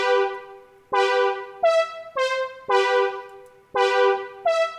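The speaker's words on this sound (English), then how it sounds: "Chords without any effects at all, they sound like this." Bright, buzzy synth chords played dry, a series of sustained stabs changing every half second or so, each starting sharply and cutting off cleanly.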